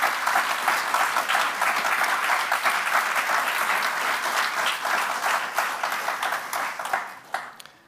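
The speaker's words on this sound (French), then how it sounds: "chers amis, on peut les applaudir." An audience applauds at a talk on fraternity in action, sustained thick clapping that holds steady before thinning and tapering off near the end, with a few last claps.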